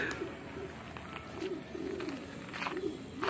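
Pigeons coo at a racing-pigeon loft: soft, repeated low coos recur every second or so, faint against a steady background hiss.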